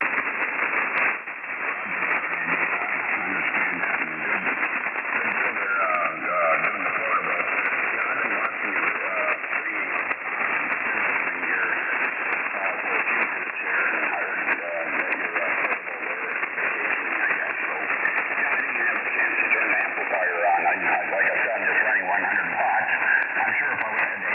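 Steady hiss and crackle of 40-meter ham radio band noise on a portable station, continuous and moderately loud, with faint warbling tones drifting through the static.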